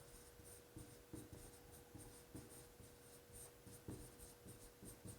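A lecturer writing notes in a criminal procedure law class, heard as quiet, rhythmic chalk or marker taps and strokes repeating across the whole stretch over a faint steady hum.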